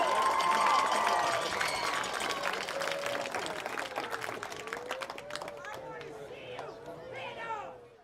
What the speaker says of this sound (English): One final round of applause and appreciation for our class of 2024 seniors and their families.